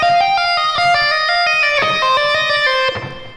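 A legato electric guitar lick is played slowly, with clearly separated, sustained notes in a steady flowing line from a solo lesson, loud and up close without any speech.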